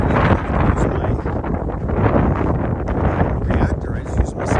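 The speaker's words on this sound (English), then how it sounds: "Actually, it's really windy." Strong gusty wind on a desert hiking trail buffets the microphone continuously, producing a loud, rumbling roar with surging gusts throughout.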